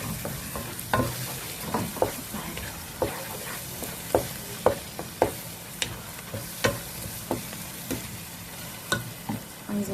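A spoonful of tomato paste goes into a hot frying pan with cardamom, garlic and bay leaves, and a spoon scrapes and stirs through it in a steady run of clinks under a soft sizzle, with no voices.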